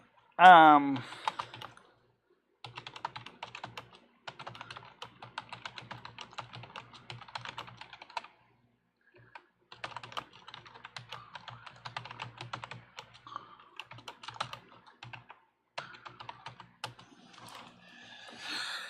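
Clicking keystrokes on a computer keyboard in bursts of fast typing with short pauses between, close and fairly quiet, with a brief voice at the start.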